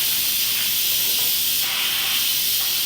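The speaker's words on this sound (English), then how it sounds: "You can hear the steam." Steam hisses steadily out of an Instant Pot's pressure release valve, a loud continuous broadband rush that holds at nearly constant strength for the whole stretch with no talking.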